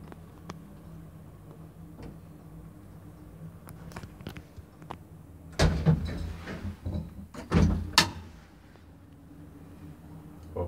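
Sliding doors of a 1975 Valmet-Schlieren traction elevator in Lahti, Finland, heard from inside the car: a quiet hum with faint clicks, then two louder rumbling, clattering door movements close by near the end.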